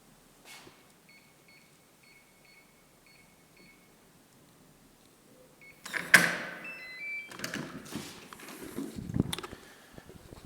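An apartment door keypad lock in a Daejeon, South Korea building gives a quick series of thin electronic beeps, then the door clunks and rattles loudly as it is opened.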